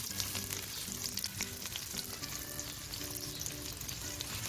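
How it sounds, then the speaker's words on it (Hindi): Sliced onions sautéing in a pan for mutton curry, a dense, steady sizzle with faint stirring clinks, fairly quiet and without talk. "अब इसमें ये प्याज डाल दीजिए"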